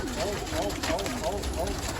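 Pigeons kept in a loft with open cages, cooing in repeated soft, rolling calls close by over a steady low background hum, while someone talks over them.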